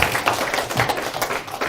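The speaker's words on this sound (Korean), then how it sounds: "조 목사님 한번 힘내라고 박수 한번 치고" A church audience claps to encourage a pastor, a brief burst of scattered, overlapping handclaps at close range with no voices over it.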